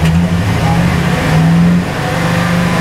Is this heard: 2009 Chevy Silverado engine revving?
yes